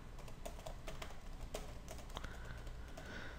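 Soft, steady keystrokes sound from a computer keyboard while C++ code is typed. The clicking is fairly quiet and close, over a faint background hum.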